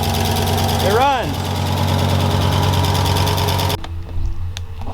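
A swapped engine in an Audi 4000 runs and idles loudly and steadily, its top end making some noise, with a brief rising and falling sweep early on before the level dips and rougher idle continues.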